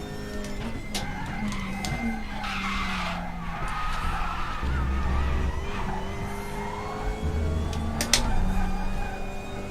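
A race car in a touring car championship racing video game drives its final lap, engine droning steadily with repeated tire squeals and skids throughout, fairly loud and continuous with no talk over it.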